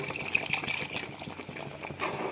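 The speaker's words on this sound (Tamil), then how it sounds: "இப்போ கொஞ்சமாக தண்ணி சேர்த்துக்கலாம்." Water is poured in a small amount into a pan of green chicken gravy, a soft steady splash and gush lasting a couple of seconds, close and fairly quiet.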